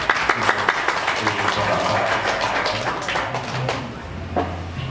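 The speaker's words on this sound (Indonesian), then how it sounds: "Tepuk tangan." An audience claps at a village anniversary declaration ceremony in Tanggan, Sragen, Central Java, with brisk, dense applause that fades out near the end while a voice speaks over it.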